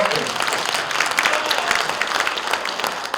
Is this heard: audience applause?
yes